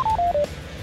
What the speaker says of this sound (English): it's going to start giving you a hibernation warning